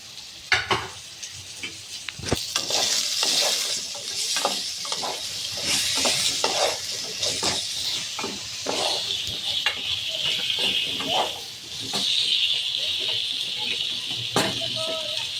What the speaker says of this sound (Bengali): আলুটা ভাজার সময় আলুর মধ্যে অল্প একটু নুন আর হলুদ দিয়ে ভেজে নেব।